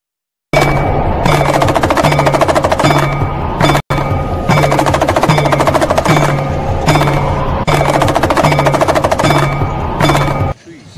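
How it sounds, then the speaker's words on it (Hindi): Excavation machinery digs and levels soil at a busy temple corridor construction site in Varanasi, making loud, continuous, rapid mechanical clattering and rattling with steady engine drone, broken by a brief gap near the middle. "मिट्टी का खुदाई का काम बहुत तेज़ी से चल रहा है और ज़मीन को समतल किया जा रहा है"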